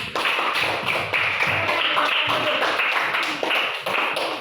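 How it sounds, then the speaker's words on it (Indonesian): Dense, continuous applause from a class of students in a classroom, steady and fairly loud throughout. "kasih tepuk tangan."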